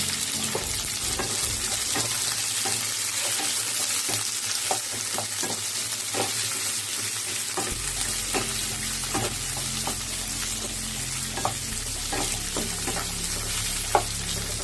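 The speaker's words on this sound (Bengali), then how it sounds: "পেঁয়াজগুলো আমি 1 মিনিট নাড়াচাড়া করে ভেজে নেব।" Onions frying in hot oil for egg chilli, giving a loud, steady sizzle up close, broken by frequent clicks and scrapes of a spatula stirring the pan.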